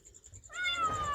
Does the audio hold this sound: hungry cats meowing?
yes